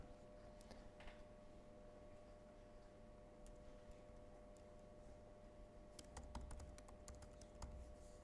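Code is typed on a computer keyboard in a quiet room, soft rapid keystrokes in irregular bursts, growing denser toward the end.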